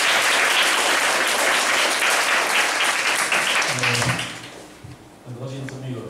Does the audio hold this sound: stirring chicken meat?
no